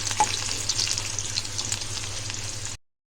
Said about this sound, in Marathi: फोडणी देऊया कढीपत्ता लसूण एकदा व्यवस्थित परतून घेऊया